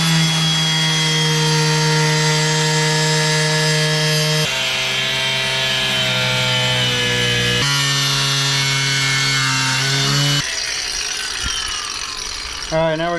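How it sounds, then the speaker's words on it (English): A diamond tile saw blade cutting in several long passes, loud, with a strong steady whine that shifts pitch between strokes and ends in a rising squeal, no speech. "I've got a diamond blade from a tile saw that we're gonna use to cut with."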